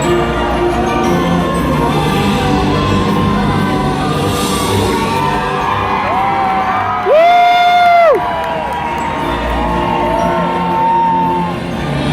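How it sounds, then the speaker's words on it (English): Audience at a Medieval Times arena cheering for the knights, a dense roar of whoops, yells and children's shouts sustained throughout, with a brief horn-like tone rising above the crowd midway. "Raise a cheer for the Knights of the Realm!"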